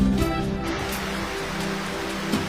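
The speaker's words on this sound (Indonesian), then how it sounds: "sebentar lagi hujan ini berhenti." Rain falls steadily during an outdoor speech event in Keerom, Papua, a continuous close hiss that holds at an even level, with no talking in this stretch.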